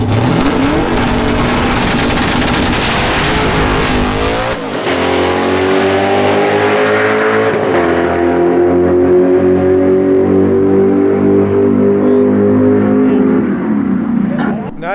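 A naturally aspirated heads-and-cam 5th/6th gen Chevrolet Camaro roars down the drag strip at full throttle, loud and close, its engine note climbing through gear changes in a sustained howl before tapering off at the end.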